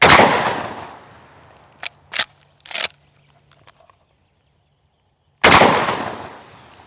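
Two loud, close gunshots boom at a target on an outdoor range, each with a long fading echo, and a few smaller, sharper cracks fall in the quiet gap between them.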